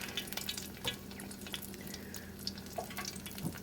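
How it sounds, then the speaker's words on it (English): Food sizzles and spatters in a frying pan in a home kitchen, a steady low crackle with scattered sharp pops and faint clinks, no voices over it. "we are frying some balls up"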